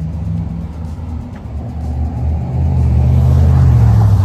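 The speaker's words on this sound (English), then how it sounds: "Got all kinds of traffic crossing." Road traffic passes close by, a low engine rumble swelling louder as a car approaches, with no talk over it.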